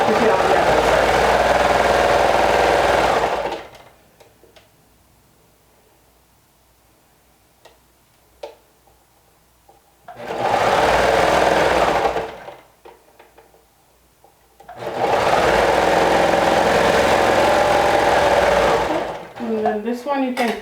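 A sewing machine stitches a garment front and waistband in three loud running bursts, separated by quiet pauses filled with small clicks and handling sounds.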